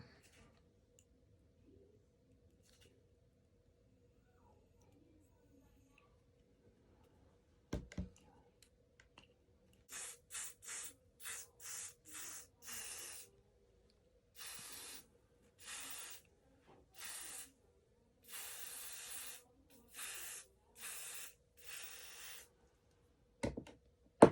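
Short hissing bursts of aerosol wig spray on a bob wig, about a dozen in an irregular series, close and fairly loud after a quiet stretch with a couple of thumps.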